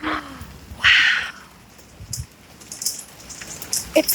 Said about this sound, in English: there are tiny balls of ice falling from the sky, banging all over the ground.